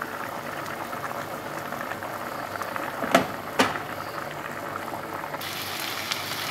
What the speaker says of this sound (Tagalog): Nag-boiled na, ilalagay ko na ngayon ang rice. Kumukulo na.